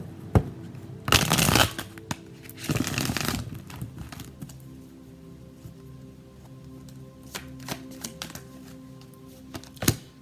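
Tarot cards being shuffled make two short loud riffling bursts early on, followed by quieter scattered taps and card handling, with only faint voice.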